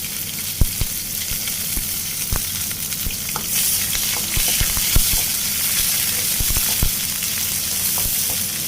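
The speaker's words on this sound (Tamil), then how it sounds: "நல்லா வதக்கிக்குவோம்." Onions and curry leaves sauté in hot oil for a tamarind curry, a steady bright sizzle with occasional sharp clicks of a spoon stirring against the pan, close by and without talk.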